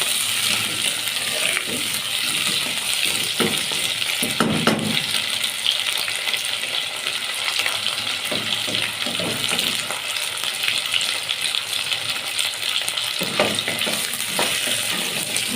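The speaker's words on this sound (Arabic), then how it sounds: "ويتشوحوا بس صدمة مع بعض في قلب المادة الدهنية" Yellow lentil soup ingredients sauté in hot fat in a pot, giving a continuous close sizzle and frying hiss with occasional stirring scrapes and clinks, and no one talking.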